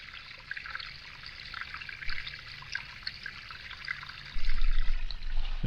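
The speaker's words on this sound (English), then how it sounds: "there's little itsy bitsy waterfalls everywhere" Small waterfalls trickle and splash outdoors after rain, a steady close wash of running water that grows louder and rougher near the end.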